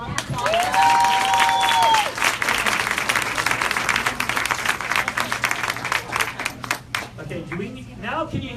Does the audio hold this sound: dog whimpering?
no